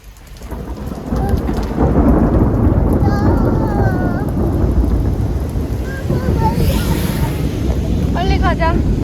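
Heavy rain pounds steadily in a thunderstorm in Lyon, France, while loud thunder rumbles and rolls through the downpour; a few brief voices talk under the storm noise.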